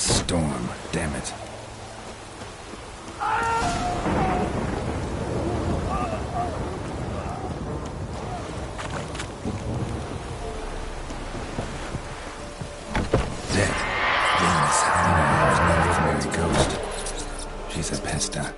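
A rain-swept thunderstorm in the video game The Witcher 3: Wild Hunt, steady rain and wind noise running throughout under occasional gusts, with people talking over it.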